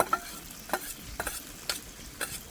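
Boiled chana dal being stir-fried with potato and pointed gourd in a pan, a spatula scraping in several spaced strokes over a soft, faint sizzle, no voices.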